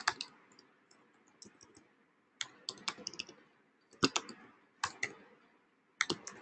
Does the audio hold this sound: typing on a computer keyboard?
yes